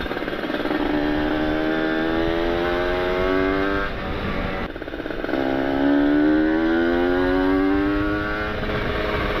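A Kawasaki Ninja RR motorcycle with an ABRT20 exhaust revs up steadily, its exhaust note climbing in pitch, easing off briefly, then revving again, loud and close.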